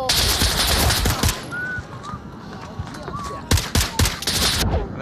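Rapid bursts of gunfire from a VR multiplayer shooter game, Onward, with rifle and pistol shots in clustered volleys, loud and close, interspersed with whistling tones and brief pauses.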